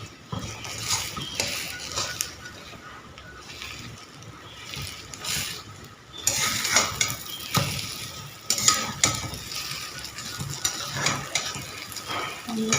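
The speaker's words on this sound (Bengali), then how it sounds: "ডিম ভাজাটা হয়ে গেছে" An egg frying in a pan with a steady, soft sizzle, punctuated by scraping and clinking of a spatula stirring and turning it, close up and with no talking.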